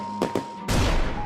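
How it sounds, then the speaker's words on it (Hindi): Diwali firecrackers set off at night: two quick sharp pops followed by a louder, longer crackling burst, close and without talk. "पटाखे फोड़ने लगे।"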